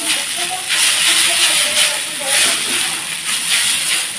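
Chow mein noodles frying in a hot pan make a loud, continuous hiss and sizzle with faint scraping, while a person talks over it.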